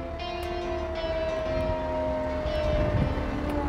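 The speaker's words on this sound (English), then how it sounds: "Make sure your mechanical siren work," A fire truck's mechanical siren is tested, giving a loud, steady wailing tone that slowly sags in pitch over a few seconds, with no talking.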